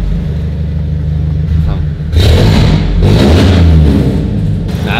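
A car with a sporty exhaust idles with a deep rumble, then revs up loudly twice, a slight popping still present in the exhaust note, while people talk nearby.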